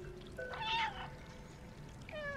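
Cat meowing in the Stray video game, a single faint mew followed by a second short call near the end, over quiet ambient background.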